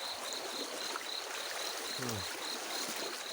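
Strong water flowing through a dredged canal, a steady broadband rush heard up close and continuous throughout, with a high insect trill pulsing faintly in the background and a brief voice near the end.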